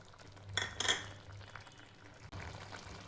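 Mango murabba mixture with cardamom powder is stirred in a pot, a spoon clinking and scraping against metal in a couple of close bursts, then softer scraping over a low hum, with no speech.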